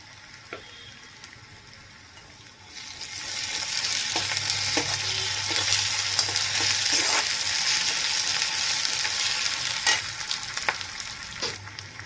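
Chopped onions and ginger sizzle in a hot pan for tomato curry, a steady loud frying hiss that swells after a quieter start, with occasional clicks of stirring and no talk.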